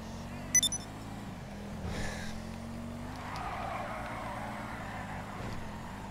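A car drives in Grand Theft Auto 5, with a steady engine drone and tire skids, plus a few brief sharp clicks near the start.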